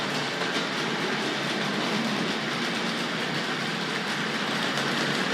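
Tri-ang and Hornby Dublo model train coaches rattle continuously along the track in a steady clattering stream, close and even, with no talking.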